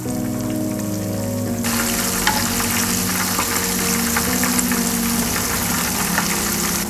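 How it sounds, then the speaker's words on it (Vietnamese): Vegetarian ribs fry in oil over low heat, giving a steady, close crackling sizzle that grows denser partway through, with no talking. "Lúc này mình chiên lửa nhỏ thôi nha các bạn, để cho miếng sườn được giang đều."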